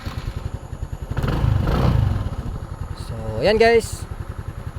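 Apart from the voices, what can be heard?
Motorstar Easyride 150 motorcycle engine running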